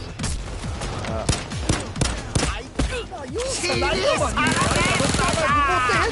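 Rapid gunfire from snipers and other weapons in the video game Payday 2, with sharp repeated cracks early on, then a dense, busy wash of game sounds and effects. Faint talk runs underneath.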